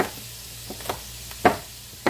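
Potatoes frying in a pan, a soft continuous sizzle with faint high-pitched bubbling, broken by a few sharp clicks and knocks of utensils, close and quiet with no talking.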